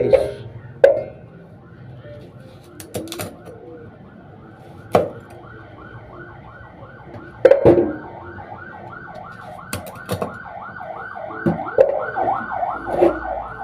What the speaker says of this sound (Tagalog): May maririnig kayo guys na ambulansya. Kasi sa tabi lang kami ng kalsada dito.